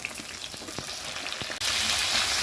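Eggplant pieces sizzle steadily in a pan of fried spices with ginger-garlic paste, a dense close crackle that swells louder and brighter partway through as they hit the hot oil, with a few soft stirring knocks.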